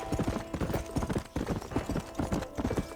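Horse hooves clip-clop at a steady trotting rhythm on a road in the video game Red Dead Redemption, close and continuous over a dense layer of game ambience.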